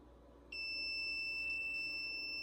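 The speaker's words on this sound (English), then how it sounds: "Okay, shut the timer off." A heat press timer starts beeping after a short quiet moment, then holds a shrill, steady electronic tone at moderate loudness through to the end, with no speech.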